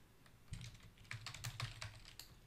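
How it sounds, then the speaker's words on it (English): Keys tapped on a computer keyboard while entering expressions for Azure Data Factory variables. About a dozen quiet, close clicks fall in an uneven rhythm over low background hum. "I'm typing everything in"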